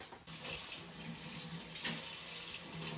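A household tap runs steadily into a sink while a new house's hot water heater is being tested, a constant close splashing flow with no talk.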